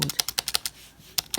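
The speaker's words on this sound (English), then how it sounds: "it's just a normal rubber dome keyboard" Typing on a Logitech MK250 rubber dome keyboard, a run of quick, close keystrokes in an uneven rhythm with a short pause before two final taps.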